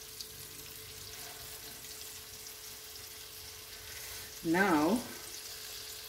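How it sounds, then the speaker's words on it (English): Fish frying in a pan for Cape Malay pickled fish gives a steady, close sizzling hiss throughout, with a single short spoken word near the end. "now we're gonna fry the fish"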